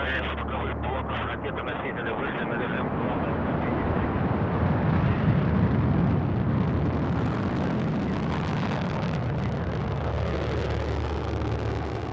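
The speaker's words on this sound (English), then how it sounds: "Progress M26M launched atop a Soyuz U carrier rocket from Site 15 at the Baikonur Cosmodrome" Soyuz-U carrier rocket lifting off from Site 15 at the Baikonur Cosmodrome carrying the Progress M-26M cargo ship, a loud, sustained broadband roar and rumble that builds and persists throughout without letup.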